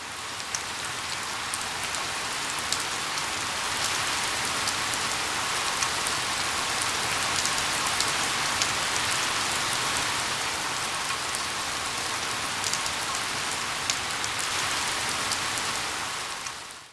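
Steady rain falls in Kerala, a dense continuous patter and hiss of drops on surfaces that holds at an even, fairly loud level throughout with no voices.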